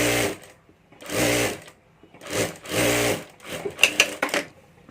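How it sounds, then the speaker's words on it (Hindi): Sewing machine stitching a strip onto a handbag lining, whirring in several short bursts separated by brief stops, close and clear, ending with a few quick clicks. "यहाँ ऊपर ये पट्टी रखकर यहाँ ऊपर सिलाई कर देनी है"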